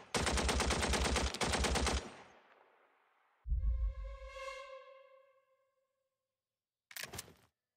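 Gunfire from the World War II video game Valor & Victory: Stalingrad, a loud two-second burst of rapid shots ending in a crash, then a heavy blast with a ringing tone that fades, and a short sharp report near the end.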